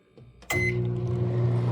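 A hotel room microwave oven switches on with a soft click, then settles into a steady, close mechanical hum with a constant low drone that runs to the end.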